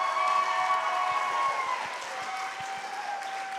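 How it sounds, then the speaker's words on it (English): An audience at a high school choir spring showcase applauds steadily and fairly loudly, a dense wash of clapping that holds throughout while sustained musical tones linger underneath. "give him a round of applause."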